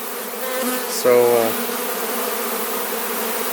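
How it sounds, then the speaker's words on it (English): Honeybees at an open hive with a very active colony and a lot of fresh comb, a close, steady loud buzz humming throughout, briefly swelling as a bee passes near, with a short spoken word. "I don't know what all this buzzing is."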